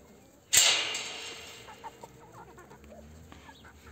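Hens in a backyard coop cluck, including Black Brahma, Columbian and Ameraucana birds, after a sharp loud knock. Scattered clucks and calls follow, fairly close, over a quiet background.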